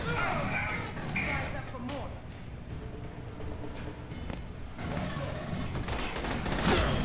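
Bursts of turret gunfire in the sci-fi shooter game Aliens: Colonial Marines rattle almost continuously, dense and loud, with other game sounds layered in and a voice talking over the top.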